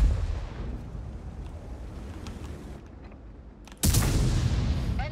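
A tank cannon fires in World of Tanks, one abrupt loud blast near the end that leaves a sustained roar after it, following a stretch of low rumbling battle ambience.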